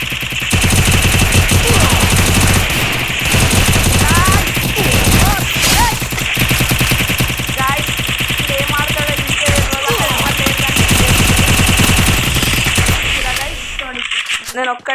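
Rapid gunfire from the mobile battle-royale game Free Fire, dense bursts of automatic shots nearly continuous across the clip, loud and close, with game effects and a voice talking over it.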